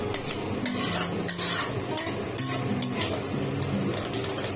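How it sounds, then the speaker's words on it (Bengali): Chopped garlic frying over high gas in a pan for a loitta fish bharta, with a steady sizzle and repeated scraping, clinking stirs of a utensil against the metal throughout, close and fairly loud. "রসুন কুচিটা একটু হালকা লাল করে ভেজে দিচ্ছি"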